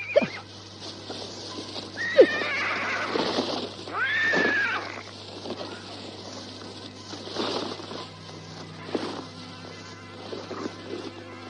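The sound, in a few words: horse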